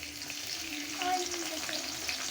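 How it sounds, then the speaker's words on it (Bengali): Lentils being tempered with chopped garlic and onion frying in hot oil, a steady soft sizzle and bubbling throughout, fairly quiet and close, with a faint tonal whine in the background. "প্রথমে আমি ডালটা বাগার দিয়ে নিব। এখানে ডাল বসাই দিছি ডালটা বাগার দেওয়ার জন্য।"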